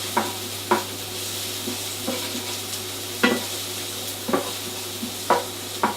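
Onions frying in a pan while being stirred during vegan filo lasagna preparation, with a steady soft sizzle broken by several sharp scraping strokes of the spoon at irregular intervals, close and moderately loud, with no talking.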